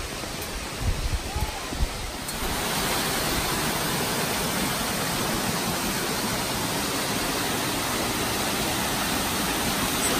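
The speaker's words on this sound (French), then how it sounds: "il y a des petites cascades comme ça" Small waterfalls beside a hiking trail in Sequoia National Park give a steady, full rushing hiss. A few brief knocks and rustles come first, then the water runs unbroken at a constant level.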